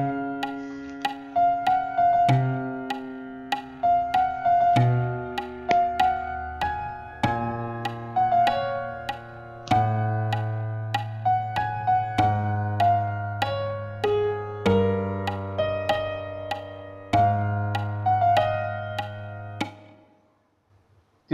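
Piano arrangement stripped down to just the vocal melody line in the upper register and sustained bass notes below, played with pedal; steady, legato phrases of single melody notes over long low tones, clear and alone with no talking.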